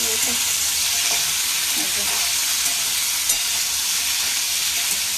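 Vegetable curry being cooked alongside luchi in a home kitchen, a steady loud frying hiss throughout with faint stirring clinks underneath.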